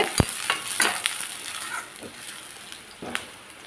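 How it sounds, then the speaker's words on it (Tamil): Chopped green chillies hit a pan of frying onions, giving a steady sizzle broken by several sharp stirring clicks and scrapes, with no talking. "நம்ம நறுக்கி வச்ச பச்சை மிளகாயை போடுறேன் ரெண்டு"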